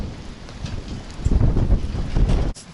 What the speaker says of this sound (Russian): Смотрите, какой град.